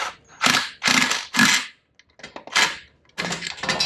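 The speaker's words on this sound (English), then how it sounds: "This isn't a good rattle gun" A pneumatic rattle gun drives bolts mating an 8HP gearbox to an N54 turbo engine, firing loud, close, hammering bursts: three quick ones in a row, then several shorter, choppier spurts.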